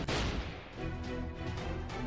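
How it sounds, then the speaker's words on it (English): In the horror video game Heretical Salem, a couple of sharp, booming gunshots crack out near the start, followed by a rumbling tail and lingering background ambience, with no voices. "Those were gunshots."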